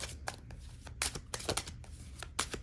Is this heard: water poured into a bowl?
no